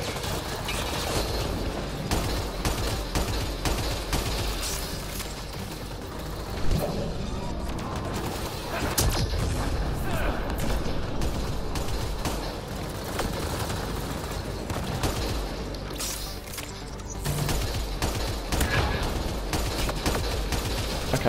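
Gun turrets firing in Mass Effect: Andromeda, dense bursts of sci-fi gunfire and mechanical booms layered over constant battle noise, with a voice speaking over the combat.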